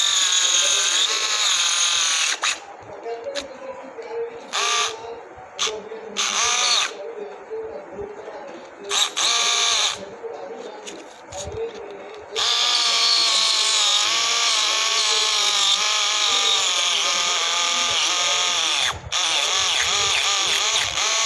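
A small 3-in-1 electric cutter used as a flattener buzzes loudly as it grinds a surface flat, running in short bursts with brief stops, then holding one long steady whine for about nine seconds.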